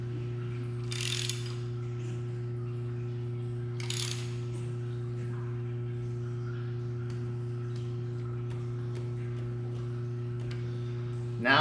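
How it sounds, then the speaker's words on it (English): A ratchet turns the crankshaft of a 6.0 LS engine through one revolution, giving a few short bursts of clicking over a steady low hum, followed by a louder clack at the end. "if I spin the crank one full revolution"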